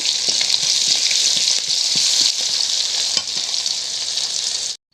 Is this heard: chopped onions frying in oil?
yes